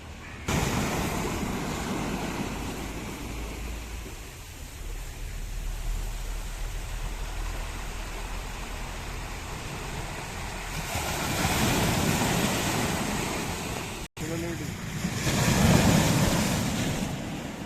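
Sea waves roll and wash in a broad steady roar, with surges of surf and wind gusting against the microphone.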